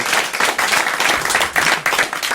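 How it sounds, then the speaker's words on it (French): Studio audience applauding a radio show caller, a dense, steady wash of clapping that stays loud and close throughout with no voices on top. "On peut applaudir notre auditeur."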